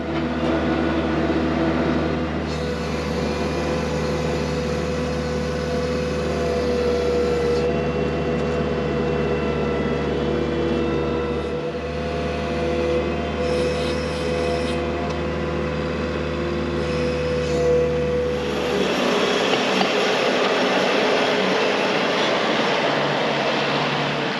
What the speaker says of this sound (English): we're good to use the skid steer to take out those 2 bales